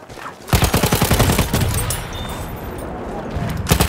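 Rapid machine gun bursts ring out loud and close in a Battlefield 1 team deathmatch set in 1915, a steady rattling stream of shots with a shouting voice over the gunfire.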